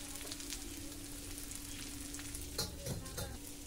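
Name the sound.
Gobindobhog rice stirred and frying in oil, turmeric added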